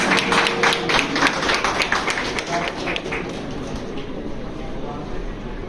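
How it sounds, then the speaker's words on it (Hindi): Audience applause at a menstrual awareness campaign event held at AIIMS Rajkot, a dense wash of clapping that starts loud and gradually thins and fades over several seconds. "तालियां बजती हैं"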